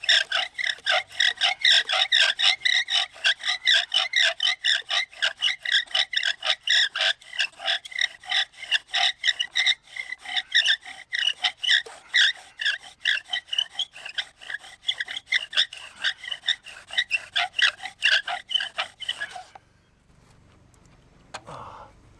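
A wooden bow drill spins back and forth for friction fire, giving a fast, regular series of dry rasping, squeaky strokes close up for nearly twenty seconds before stopping.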